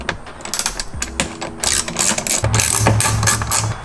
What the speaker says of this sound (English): I've got a Torx T20. There are two screws right here that we need to remove.